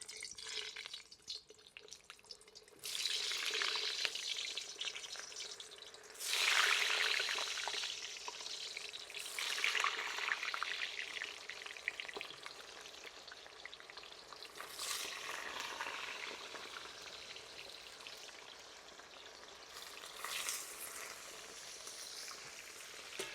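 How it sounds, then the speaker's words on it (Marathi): Banana pieces frying in hot oil for banana pakoda: a continuous bubbling sizzle, close and moderately loud, swelling into louder hissing bursts every few seconds as pieces are added or stirred. "आपण तेलामध्ये आता केळी टाकू"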